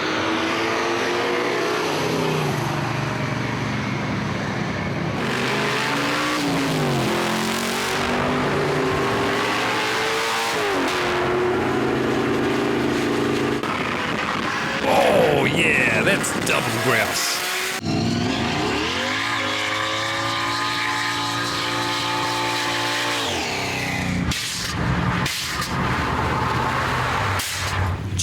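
A V8 car at a Powercruise track event revs and accelerates loudly for nearly half a minute, engine roaring through repeated rising passes with a few sharp breaks, while someone briefly speaks over it.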